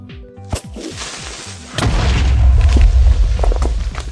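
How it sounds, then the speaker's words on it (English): Loud explosion in Minecraft on the Doom SMP server: a sharp crack, then a heavy rumbling boom that keeps roaring for a couple of seconds, following some quieter game sounds. "Explosion."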